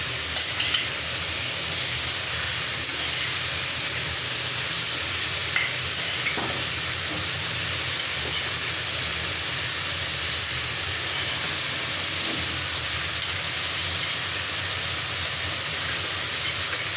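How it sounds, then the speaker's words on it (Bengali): Tomatoes frying with fish head in a pan for a cauliflower curry, a loud, steady, unbroken sizzle and hiss with occasional faint clicks, close up and without talk. "টমেটো দিয়ে একটু কষাই"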